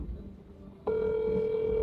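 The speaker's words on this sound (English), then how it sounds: "Come on, Fallon, answer the phone" A telephone sounds in a Jamaican home scene: a steady electronic tone starts abruptly after a moment of low background noise and holds unbroken to the end, with faint voices beneath it.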